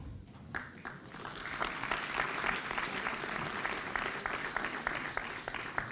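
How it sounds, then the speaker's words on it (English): An audience claps steadily for a seventh-grade school spelling bee champion at a school board of education meeting, a dense, sustained round of applause in an indoor room. "let's give a big round of applause"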